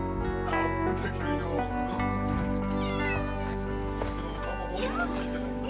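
A cat aboard a small sailing boat meows repeatedly in drawn-out, wailing calls, close and loud over a steady engine-like drone, with a person's voice speaking softly alongside.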